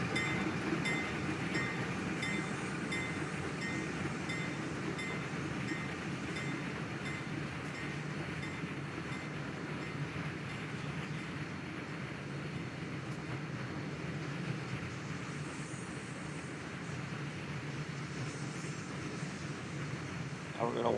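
An NYSW freight train, train 316 from Bellevue, Ohio to Binghamton, running on the Southern Tier line. It gives a steady, continuous rolling rumble with faint wheel clatter and squeal, and a voice speaks over it.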